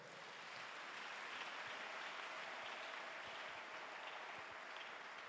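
A church congregation applauds steadily throughout, a dense, even wash of clapping from many hands filling the room with no pauses or speech.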